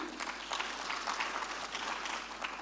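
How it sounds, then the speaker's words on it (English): An audience at a business summit applauds steadily, a dense, fairly faint patter of clapping hands throughout. "Another round of applause for the DG,"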